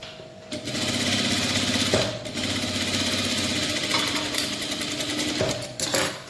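Sewing machine stitching thread piping onto a blouse neckline, a steady close mechanical whirr with rapid needle clatter and short pauses between runs.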